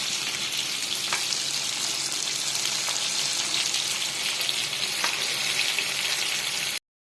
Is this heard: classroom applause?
no